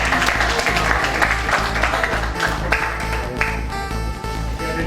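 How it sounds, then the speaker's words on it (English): Applause for Dr. Benny at a business talk in Surabaya, a sustained dense round of clapping from a crowd, loud and close, over a low hum and some musical tones near the end. "kita applause lagi buat Dr."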